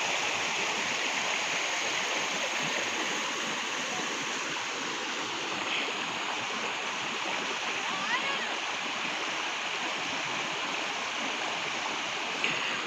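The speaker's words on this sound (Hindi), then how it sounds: "पानी काफ़ी ठंडा है यहाँ पर, बिल्कुल जिस तरह से चश्मों का पानी होता है पहाड़ से ऊपर आने वाला" Cold spring water streams steadily down a mountain trail near Islamabad, a continuous broadband rush of flowing water heard up close, with no other clear sounds standing out.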